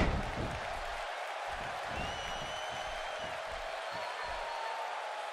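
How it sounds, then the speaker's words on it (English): A Tokyo crowd at a New Japan Pro-Wrestling IWGP U.S. Championship match. The roar and cheering are steady and distant, with faint whoops, and a voice sits partly over it. "just listen to this Tokyo crowd"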